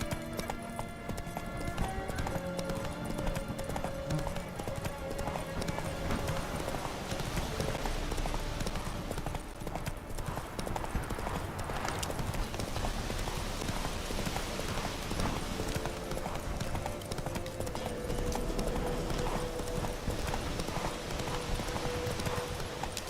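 Roach the horse galloping in the video game The Witcher 3: a continuous, even clip-clop of hooves running for over twenty seconds at moderate loudness, over a steady game soundscape with faint tonal layers.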